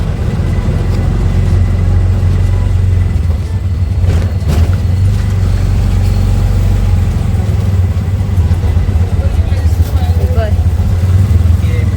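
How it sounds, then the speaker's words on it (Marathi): An auto rickshaw engine running steadily throughout, a loud, close, continuous low drone heard from inside the vehicle while riding. "भाऊ माझी रिक्षा पॉवरफुल चलयता पळय."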